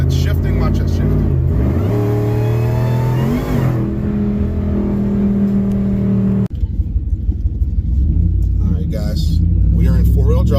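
A Whipple-supercharged 392 Ram truck in four-wheel drive with traction control off launches, its engine roaring loudly up through the revs and then shifting gear, close and continuous, with people talking over it.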